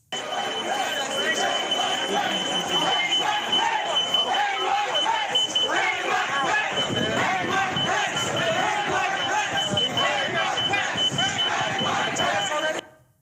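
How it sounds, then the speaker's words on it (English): A steady high-pitched door security alarm rings continuously beneath a loud, shouting crowd of rioters inside the US Capitol, with chanting voices filling the scene throughout. "You can hear the security alarm from the door in the background"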